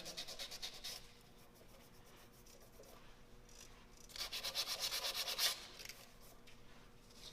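Sandpaper rubbing against a spinning hardwood pen on a lathe, a close, steady hiss that rises into a brighter, louder pulsing scrape in the second half before easing off.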